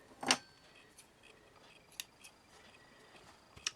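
Scissors snipping sewing thread close up, one sharp distinct cut followed by a few faint light clicks in an otherwise quiet room.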